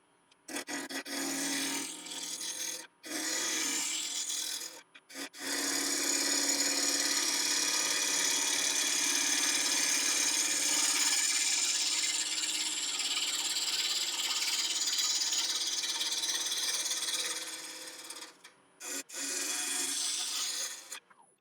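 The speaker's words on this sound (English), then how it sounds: "So 3/8 inch ball gouge. Bring the speed up." A wood lathe running at about 1000 RPM turns a rare piece of African mahogany while a 3/8 inch ball gouge cuts. It makes a loud, steady rasping rub that drops out briefly a few times as the tool lifts off.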